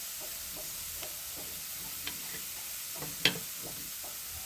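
Carrot pulihora mixture with turmeric frying in a pan, a soft steady sizzle with faint stirring scrapes and a few light clicks, fairly quiet and without voices.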